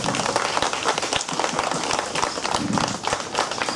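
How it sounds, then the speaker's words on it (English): An audience at a live wildlife show featuring a helmeted guinea fowl claps loudly and continuously, a dense, sustained wash of many hands clapping at once. "Now, Einstein loves the sound of applause, so maybe you guys talk loud enough, he might come out to see you guys today"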